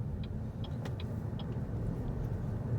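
A BYD Atto 3 electric car pulls away and drives, giving a steady low road rumble from inside the cabin, with a few faint clicks and rattles over the surface imperfections.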